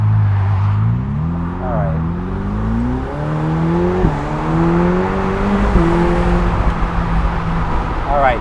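A Ferrari accelerates at 70% throttle, its loud engine note climbing through several quick gear changes with brief dips between shifts, heard close from inside the car, with a voice talking over the engine.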